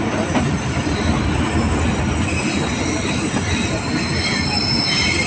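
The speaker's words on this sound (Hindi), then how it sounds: "देखें जी अराइवल होता हुआ हमारी ट्रेन का खानपुर रेलवे जंक्शन पे" A train pulls into Khanpur railway junction with its wheels squealing loudly and continuously against the rails, a steady dense rumble and screech that stays close for the whole stretch.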